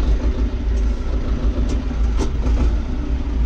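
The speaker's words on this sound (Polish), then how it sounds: "Wy lubicie jak ciągnik odpala," A tractor engine starts and runs at a steady idle, a deep continuous chugging rumble close by, with a few faint clicks over it.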